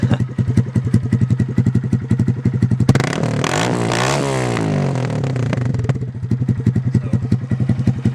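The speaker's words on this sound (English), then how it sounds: "It's twice as loud without the baffle in it" A motorcycle with its exhaust baffle removed idles with a rapid, lumpy exhaust putter, then revs hard into a loud, harsh roar before settling back to idle.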